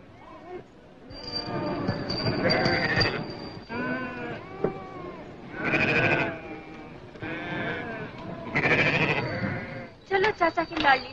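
Goats bleat repeatedly in a rural setting in a 1962 Hindi film. The wavering, fairly close calls come in bursts, some overlapping, with what sounds like talk mixed in.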